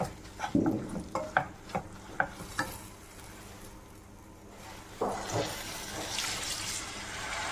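Spoon taps and scrapes around a curry pan in a quick run, then tamarind water is poured in with a louder, sustained watery rush and bubbling, all close and without voices.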